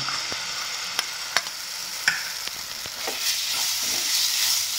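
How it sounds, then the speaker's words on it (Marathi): Ground rice and vermicelli roasting together in a pan for caramel sheer khurma, a steady close sizzle broken by scattered scraping and stirring clicks, no voices. "आता आपण इथं जे तांदूळ बारीक करून घेतलेले आहेत त्यात आपण पॅनमध्ये टाकणार आहे आणि व्यवस्थित शेवयांबरोबर भाजून घेणार आहे"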